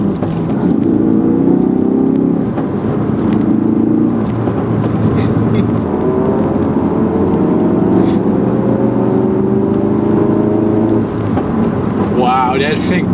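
Tuned Ford Focus RS engine pulling hard under acceleration, loud continuous rising drone with rev-matched shifts stepping the pitch, heard from inside the car.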